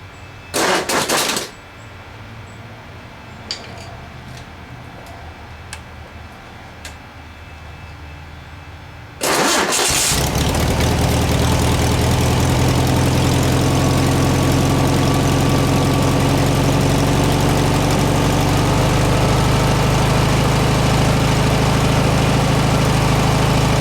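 A 1967 VW ragtop engine cranks briefly, falls quiet for several seconds, then fires and runs with a loud, steady idle that fills the rest of the clip.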